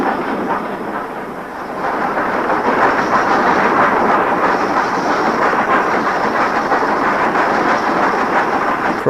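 Steam train near Goathland on the Pickering line, a Class 5 locomotive passing, heard as a continuous loud rumbling roar of running and wheel noise that swells after the first two seconds, with no talk.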